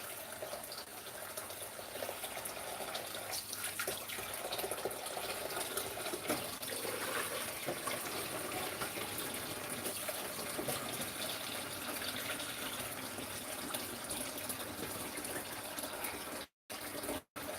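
Warm tap water runs steadily from a faucet while dyed fabric is rinsed in a sink, a loud continuous gushing splash that stops abruptly at the very end.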